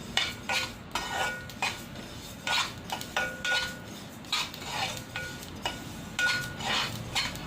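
A spoon scrapes and stirs sesame seeds roasting in a pan for laddu. The strokes are rhythmic and close, each with a light clink against the metal and a faint sizzle underneath.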